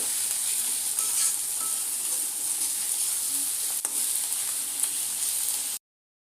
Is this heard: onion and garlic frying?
yes